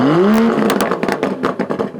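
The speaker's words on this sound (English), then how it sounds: "the sound of a perfectly perforated British quad exhaust" A 2019 Aston Martin DBS Superleggera engine revs sharply through its quad exhaust with a rising then falling growl, followed by a rapid string of crackling, popping exhaust bursts.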